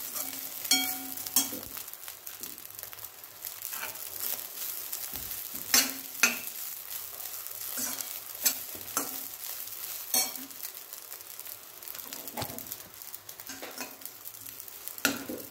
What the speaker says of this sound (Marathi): आता खोबरं ही थोडंसं परतून घेतलेलं आहे आणि थोडासा तांदळाचा कलर सुद्धा चेंज झालाय